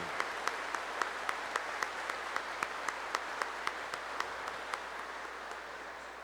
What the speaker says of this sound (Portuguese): uma salva de palmas para os nossos candidatos ao diaconato